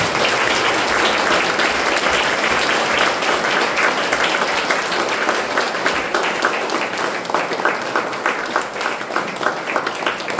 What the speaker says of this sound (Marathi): टाळ्या वाजवून